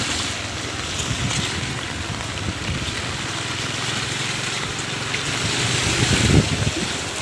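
A flooded drain (nala) in Badlapur roars with fast rushing floodwater, a loud, continuous broadband rumble with some wind buffeting at the microphone.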